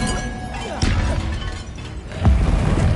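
A Bombarda blasting spell from Hogwarts Legacy goes off with a loud close boom and crashing debris, after several dull thuds and scuffling combat noises, with brief voice sounds in the mix.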